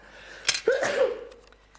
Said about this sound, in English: Once a show, every show I sneeze